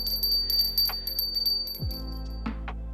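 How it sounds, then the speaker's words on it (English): A small handheld bell rings with a bright, sustained tone, chiming repeatedly in quick shakes over a low background hum, close and clear. "With my mini magic bell."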